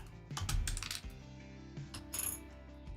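A keycap being pried off a mechanical keyboard with a key puller: a few close, sharp plastic clicks and clacks at the start, then a quieter click near the end, with no talking.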